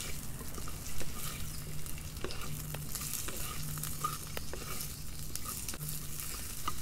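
Pieces of raw green mango fry lightly in a pan for a Bengali village-style meal, with a soft continuous sizzle and repeated scraping taps from stirring, close and fairly quiet, with no talking.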